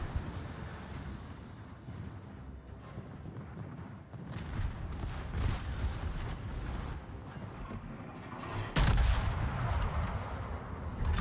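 Naval gun turrets fire in a World of Warships battle, heavy booming salvos rolling over a steady rumble of sea and engine noise, with a sharper, louder blast near the end.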